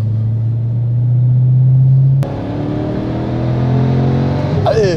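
An Audi RS6 4.0 TFSI with a Garrett single-turbo conversion pulls hard in fifth gear on a dyno from low revs, a steady loud engine drone that swells into a rising, whining acceleration with climbing harmonics near the end.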